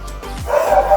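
Dogs at a pet and livestock market give several short, loud barks and yips in quick succession, close by, with a faint hint of voices in the background.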